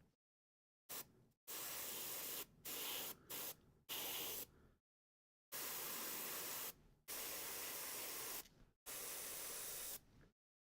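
An airbrush sprays transparent white paint in several long, steady hissing bursts separated by short pauses, close and even.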